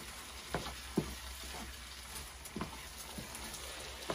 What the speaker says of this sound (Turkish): Ben bunu kavuracağım böyle biraz.